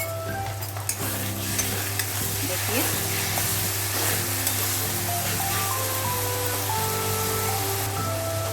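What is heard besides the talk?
ginger garlic paste frying with onions in oil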